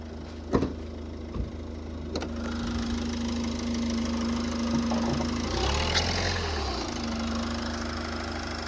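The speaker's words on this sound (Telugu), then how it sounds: "నేనైతే బానెట్ ఓపెన్ చేసిన, ఇంజన్ని స్టార్ట్ చేసిన. మీరు ఇంజన్ సౌండ్ అయితే వినొచ్చండి" A 2015 Ford Figo Aspire idles steadily with its bonnet open, a low, even engine hum holding for several seconds, broken by a few sharp knocks near the start and a brief shift in tone midway.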